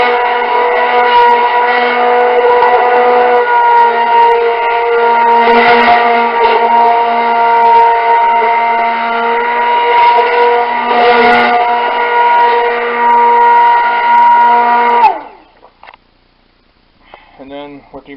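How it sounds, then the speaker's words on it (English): An immersion blender runs loud and steady with a constant whine for about fifteen seconds while stirring heavy cream into a pot of soup, then cuts off abruptly, leaving near silence with a few faint clinks. "And then with the immersion blender, if you're not careful, you become a casualty."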